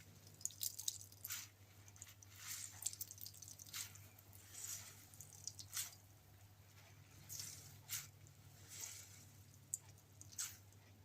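Soft squelching and dripping come as wet food is pressed by hand to squeeze out water while making chicken nuggets, with quiet, irregular squishes close by.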